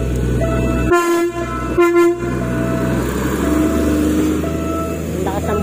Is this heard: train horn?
yes